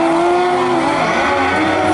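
Racing sidecars at Rosebank Speedway roaring off the start of a North Island sidecar race, several engines revving hard and loud in a dense, continuous blare with a high whine rising over the pack.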